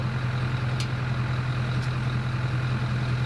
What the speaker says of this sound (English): I absolutely love this blower.